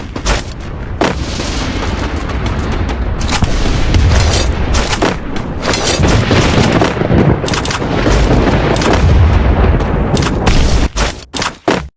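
Gunfire and sniper shots in a battle royale video game tournament final: sharp, loud cracks and booming shots go off in rapid, irregular bursts over a steady background roar, with no voices.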